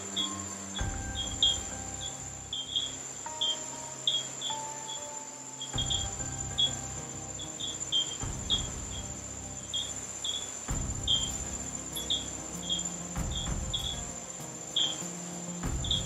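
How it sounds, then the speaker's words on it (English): Frogs call through a Costa Rican night after rain: a steady chorus of short, repeated high chirps carries on throughout, with soft low thumps and rustling beneath and no voices. "the frogs are out. You can hear them calling in the background."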